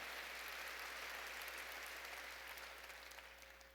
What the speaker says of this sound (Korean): 박수로 하나님께 영광 돌려야죠